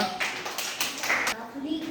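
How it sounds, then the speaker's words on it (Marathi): Schoolchildren in a first-grade class clap together for a classmate, a brief burst of close, scattered applause mixed with voices. "आरुषसाठी टाळ्या वाजवा"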